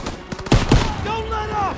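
Gunfire crackles in a Call of Duty WW2 battle in Normandy: a few sharp, loud close shots in quick succession, with a voice shouting over the noise.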